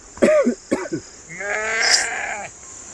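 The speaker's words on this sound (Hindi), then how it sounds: "अभी भेड़ों को इस साइड मैंने वहाँ से कर दिया है और बाकी तो ऊपर है, बाकी बिक्कू भाई लेके आ र" Sheep bleat at a Gaddi shepherds' camp in the mountains, with one drawn-out wavering bleat close by, preceded by brief coughs or throat sounds and steady background hiss.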